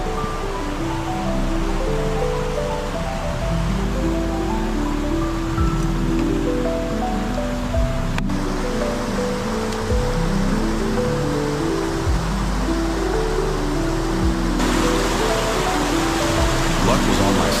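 A river at a wild camp runs steadily and loudly, a constant broadband rush close by with no pauses.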